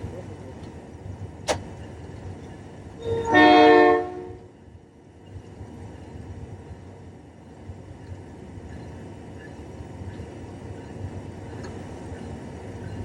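A single loud model-railroad layout train horn blast sounds at a whistle post over steady vehicle rumble, with a sharp click just before it.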